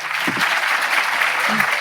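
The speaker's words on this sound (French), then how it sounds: "Vous pouvez applaudir évidemment nos invités." A seated audience at a conference on training the nuclear-renewal generation claps for the invited guests, a brief, even wash of clapping with faint voices murmuring underneath.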